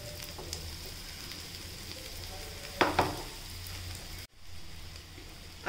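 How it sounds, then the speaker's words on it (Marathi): Egg bread cutlets frying in a pan until crisp and browned underneath, giving a steady low sizzle with a brief burst of louder crackling partway through, then a short gap before the frying resumes. "खालची साईड सुद्धा आपल्याला खरपूस लाल रंगावर भाजून घ्यायची आहे पूर्ण"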